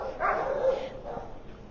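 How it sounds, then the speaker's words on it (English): A dog at an animal shelter's adoption event barks and whimpers a few times, moderately close, mixed with faint background voices. "we have such a variety of dogs right now. We have Dobies, Rottweilers."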